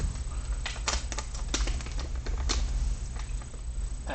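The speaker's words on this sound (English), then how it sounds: "Taped up pretty well, nice seal, so I have to cut it open." Tape on a sealed mail package being cut open, a run of close crisp slicing and tearing ticks over a steady low hum, with no talking.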